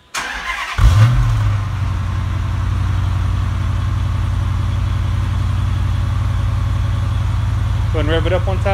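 A 2010 Dodge Challenger R/T Classic with a 5.7-liter Hemi V8 and stock resonators cranks briefly, fires up with a loud roar, then settles into a deep, steady, rumbling idle close by.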